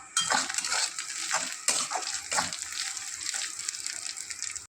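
Spice masala of cumin, turmeric and coriander powder frying in oil in a pan for a prawn and bottle gourd dish, a steady close sizzle with spatula scrapes and stirring clatter throughout.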